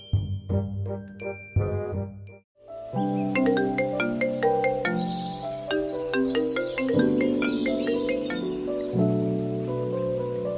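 A melodic phone ringtone chimes in a repeating pattern, starting with a short phrase, pausing briefly, then continuing steadily and fairly loud.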